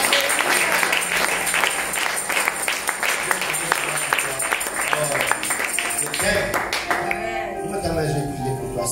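A church congregation applauding God, sustained dense clapping throughout from a crowd, with a person speaking over it and the applause thinning toward the end.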